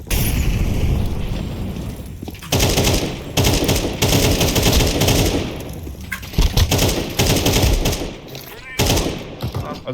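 Gunfire in CS2 on the Vertigo map: dense, loud bursts of automatic and single shots crowd almost the whole stretch, with players talking excitedly over the shooting.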